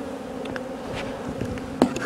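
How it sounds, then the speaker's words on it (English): Honey bees buzzing during a hive inspection as adult bees are shaken into a pan, a dense close drone of many wings with brief louder passes and a sharp knock near the end. "That's done first by shaking the adult bees into a pan"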